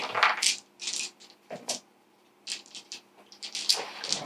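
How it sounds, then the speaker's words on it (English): Plastic skill dice roll and clatter across a table during a HEXplore It board game, coming in several short bursts of rattling, some loud and close, with brief quiet gaps between them. "now we need to roll our skill dice"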